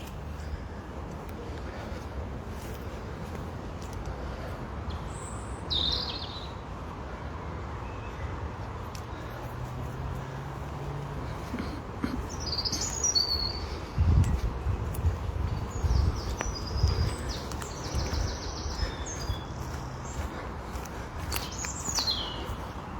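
Birds chirp and call intermittently from a distance in a forest over a steady outdoor hush, with a faint rustle of leaves and no talking.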